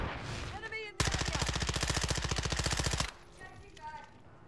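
Sustained automatic rifle fire from the Call of Duty Modern Warfare II video game, a loud rapid burst of about two seconds with evenly spaced shots, framed by quieter game sounds and talk before and after.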